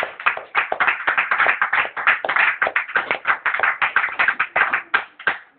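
A church congregation clapping together, a dense run of quick, close hand claps that keeps an even beat for several seconds without pause.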